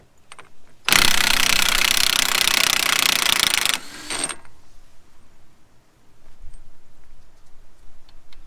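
A tool works on the axle nuts of a Mazdaspeed 3, giving one loud rattling burst of about three seconds, followed by a short weaker buzz and then faint scattered clicks in a quiet garage.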